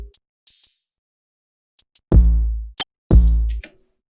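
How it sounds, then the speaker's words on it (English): Crisp open hi-hat hits ring out in a sparse hip-hop beat, interleaved with short clicks and heavy, booming sub-bass notes, each sound separated by silence. "And then another open hat"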